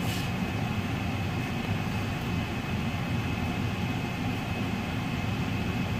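Constant heavy rumbling roar of a passing train, steady and loud throughout with no breaks or voices.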